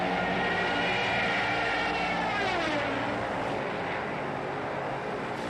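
A wartime aircraft's wailing siren, the iconic war-movie dive sound, roars loud and sustained with a sliding pitch over engine drone, heard alone.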